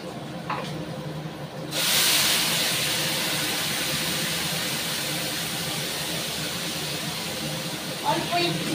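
A ginger, garlic, tomato and onion paste hits hot oil in a pan and bursts into a loud, continuous hissing sizzle that carries on steadily, with brief clatter near the start and end.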